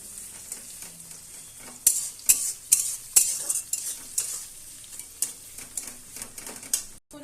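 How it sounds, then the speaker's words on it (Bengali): Onions fry in a pan with a steady soft sizzle, broken by a series of sharp scraping and clicking strokes as they are stirred, close and fairly loud. "পেঁয়াজ দিয়ে দেবো, লাল করে ভেজে নেব।"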